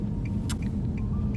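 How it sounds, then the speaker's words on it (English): A manual car's engine drones low and steady from inside the cabin while driving, with faint clicks and small rattles on top and no speech. "You can hear the engine, sorry, I have a manual"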